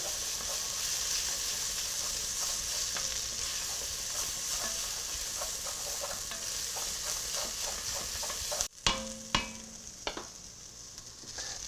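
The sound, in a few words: stirring tomato paste into venison osso buco in pan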